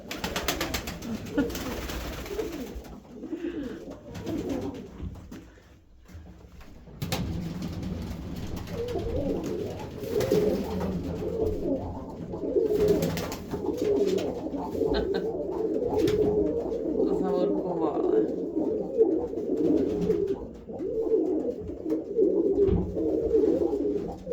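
Pigeons coo near their roosting spot, repeated soft throaty calls overlapping in a steady flock chorus, fairly close, with a brief quieter gap early on and no talking.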